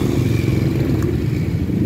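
Skygo Lance 150 motorcycle engine running at a steady, loud idle-like drone, a continuous low rumble with faint mechanical clatter throughout.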